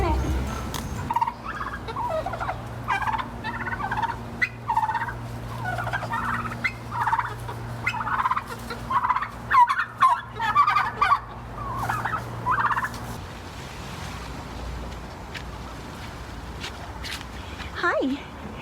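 Several turkeys gobble repeatedly in bursts nearby, with footsteps and a person talking over them, and a steady low hum running through most of the scene.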